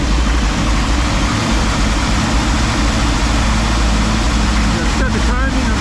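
A 1957 car engine running just after a Holley carburetor install, a loud steady low rumble with an uneven, slightly skipping idle, close and continuous throughout.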